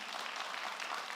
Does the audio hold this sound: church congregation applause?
yes